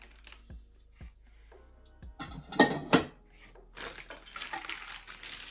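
A few sharp clinks of ceramic plates being picked up and set down, close by, with some scraping and clattering between quiet pauses.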